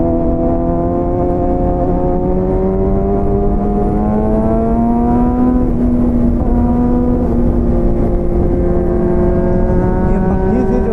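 A superbike's engine and exhaust hold a loud, sustained, buzzing drone, rising and falling slightly in pitch as the rider keeps the revs up, heard close with wind noise.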